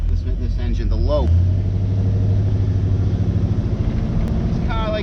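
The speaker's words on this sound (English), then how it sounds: "Do like that sound. Something about the Rocket 350." A 1971 Oldsmobile Cutlass convertible's Rocket 350 V8 rumbles while driving, a close, loud, steady low drone with a lopey burble and a brief rise in revs.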